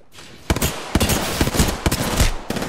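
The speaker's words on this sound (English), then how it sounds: "I'm taking fire." Rapid bursts of gunfire in an Apex Legends firefight, sharp repeated shots starting after a brief quiet moment and continuing in clustered volleys, loud and close with no talk.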